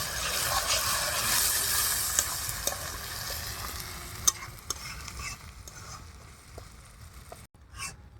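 Spinach is stirred into fried spices in a pan for palak paneer, a close, steady sizzle with repeated scraping and clinking stirring strokes that fade toward the end, with no talking.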